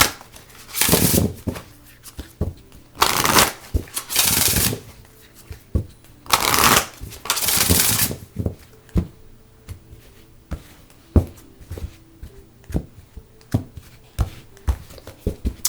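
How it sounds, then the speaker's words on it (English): A deck of tarot cards shuffled by hand, several riffling bursts followed by a run of soft taps and card snaps, close and clear with no talk. "I'm actually going to pull a card from here as well"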